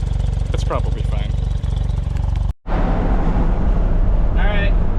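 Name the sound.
Suzuki Cara car driving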